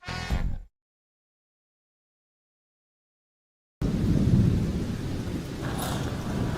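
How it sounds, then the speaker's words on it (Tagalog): Heavy rain with thunder: a short burst of rumbling downpour, then a stretch of dead silence, then a dense, steady roar of rain returns and carries on to the end. "Grabe, lakas ng ulan."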